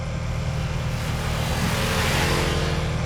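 Ducati Multistrada V4 RS motorcycle, a V4 engine, pulling steadily with a loud, even drone and rushing wind noise under it, heard from the rider's position while riding toward a set of corners.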